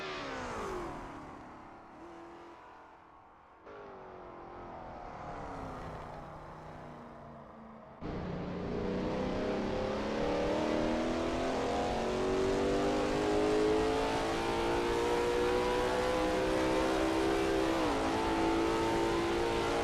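Lola T70 MkII Spyder race car at Sebring in a racing game, engine revving through gear changes, then a loud sustained high-revving drone down a straight with shifting pitch.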